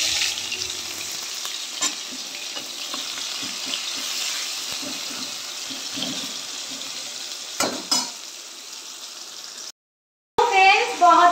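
Onion frying in a pan with a steady close sizzle, broken by a few stirring knocks and a brief silence near the end before louder clatter returns.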